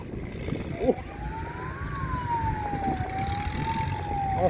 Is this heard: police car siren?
yes